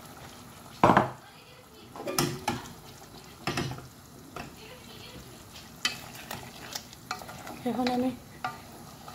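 Fish pieces stirred with spices in a pan over the stove, a soft sizzle broken by several loud clanks and scrapes of a metal spoon against the pan, with a few brief spoken words.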